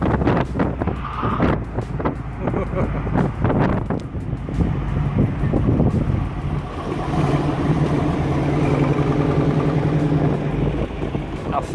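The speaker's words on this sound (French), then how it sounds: "toutes les Mustangs qui passent sur le circuit" Ford Mustangs, including one with a stroked 351 V8, passing on a racing circuit's main straight at Mustang Day, a loud engine roar buffeted by heavy wind noise, with voices talking underneath.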